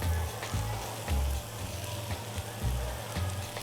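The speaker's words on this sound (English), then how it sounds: "I want to add my onions now." Onions are added to crisp frying vegetables in a hot pan for veg lo mein, giving a steady soft sizzle with rhythmic low thumps of stirring throughout.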